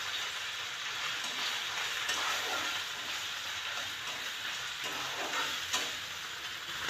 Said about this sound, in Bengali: আদাটা অনেক তেল ছিটাচ্ছে, ওই জন্য টমেটোটা তাড়াতাড়ি ঢেলে দিচ্ছি